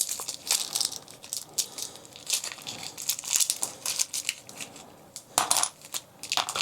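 A plastic baggie of toy accessories for a Hasbro Studio Series '86 Astrotrain figure, taped shut, gets handled and opened: close, uneven crinkling and crunching with sharp rustles and bursts of tearing, no speech.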